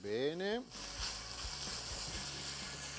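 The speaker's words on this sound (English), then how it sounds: "I let it cook off and I can add the eggplant pulp" Eggplant pulp frying in a pan for stuffed eggplants, a soft continuous sizzle with a few faint stirring clicks, preceded by a brief tonal sweep at the start.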